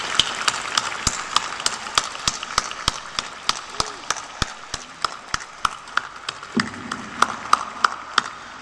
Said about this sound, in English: join me in applauding your families and friends